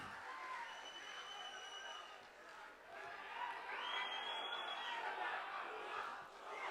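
A faint crowd at a Chiranjeevi birthday celebration claps and cheers in a steady, distant roar, with scattered whoops and whistles rising and falling throughout.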